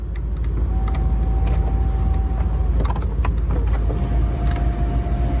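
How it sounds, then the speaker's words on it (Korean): Deep, steady exhaust rumble from an Audi RS Q8, a 600-horsepower performance SUV, heard through an open window over passing bus noise, continuous and loud with a low droning drone throughout. "창문을 여니까 확 느껴지네 이 배기음이 버스 배기음을 뚫고 들리는데 웅웅웅웅 하는 이 배기음이"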